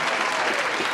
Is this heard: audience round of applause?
yes